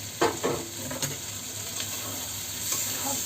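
Fried taro, potato and shrimp being stirred in a hot pan: a steady oily sizzle with a few scraping spatula strokes near the start, no voices.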